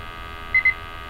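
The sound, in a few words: gas detector alarm beeping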